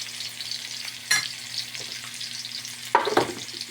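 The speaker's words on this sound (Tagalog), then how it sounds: "Ilagay natin ang manok para tapos iprito-prito natin" Chicken pieces sizzle and crackle in a hot pan for a homemade red curry, a steady bright hiss with two louder bursts as the meat is stirred.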